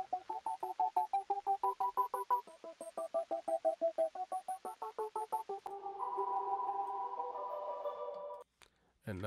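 Dry synthesizer notes pulse in a quick, even staccato rhythm, then shift to a sustained chord that stops abruptly, with no echo or tail.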